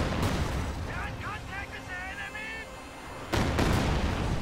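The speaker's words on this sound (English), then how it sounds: "Oh, the barrage fell a little short, though." An artillery barrage in a video game firing and landing short of a bunker: continuous heavy booming rumble, a whistling tone in the middle, then a loud impact burst near the end, with a voice partly audible underneath.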